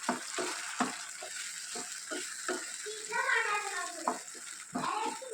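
Tamarind chutney is mixed into a hot tempering in a pan, a soft sizzle running under repeated scraping stirs of a spoon, fairly quiet and close.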